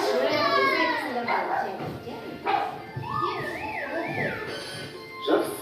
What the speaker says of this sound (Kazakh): Жақсы, бұл ит қой.